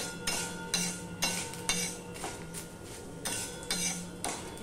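A utensil scrapes and clinks against a pan while mixing fried cornflakes, flattened rice, peanuts and curry leaves, in a series of irregular strokes, close up, with no talking.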